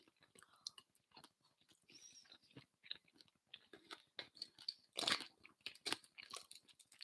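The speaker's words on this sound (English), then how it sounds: "It's chewing my food." Close-up chewing and crunching of food, with irregular crisp bursts and soft mouth sounds over about seven seconds, one louder crunch near the middle, no talking.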